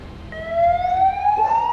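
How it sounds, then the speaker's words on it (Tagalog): An ambulance siren wails briefly, a single rising tone that swells in loudness over under two seconds. "Sir, nandiyan na po yung ambulansya."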